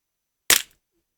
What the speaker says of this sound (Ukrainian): Ну, з другого разу постріл був.